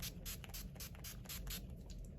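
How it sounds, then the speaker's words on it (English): Setting spray misted onto a face, a rapid series of about nine short, close hissing spritzes in quick rhythm over a low background hum. "So next, I'm just gonna spray my face"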